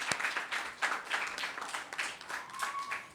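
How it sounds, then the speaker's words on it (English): Moderate applause from the audience at a primary school library opening and handover ceremony, honoring the library's donors. The clapping is fairly quiet and uneven, rising and falling over a few seconds. "they deserve a round of applause"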